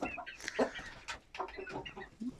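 A hen and a rooster, a Hint breed bird, cluck close up in quick, irregular bursts of short throaty calls, with no talking over them.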